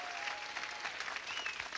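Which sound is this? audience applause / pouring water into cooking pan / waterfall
audience applause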